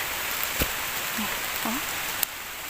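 Steady rain hisses softly and evenly in a forest while mushrooms are gathered, with a couple of sharp drip-like taps and a brief faint chirp over the wash.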